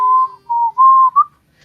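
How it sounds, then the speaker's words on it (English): A person whistles a few clean, sustained notes into a microphone, close and loud, in separated phrases with brief gaps and a final short note. "my microphone will pick up my whistling for OBS, but not for Discord"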